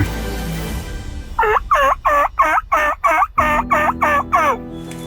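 A wild turkey gobbles loudly and close during a spring turkey hunt, a single rapid, rattling burst of about ten pulses lasting roughly three seconds, over faint outdoor background noise.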